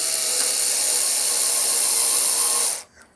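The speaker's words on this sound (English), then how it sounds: "All you have to do is screw that in with that washer in place" Screwdriver driving a number 4 wood screw through a washer while laying model railway track on a large helix curve, a steady whirring power-tool buzz for nearly three seconds that cuts off abruptly.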